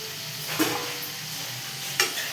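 Potato and halwa fish pieces stirred into an oily gravy in a pan, a soft continuous sizzle with two sharp scraping strokes of the spoon, quiet and close with no talking.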